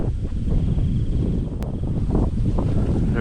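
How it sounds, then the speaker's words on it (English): Wind gusting across an open plateau in Vietnam, a steady, loud buffeting roar with rustling through grasses and trees and heavy low rumble on the microphone, continuous with no voices. "There is now serenity and just the sound of the wind blowing through the grasses and the trees."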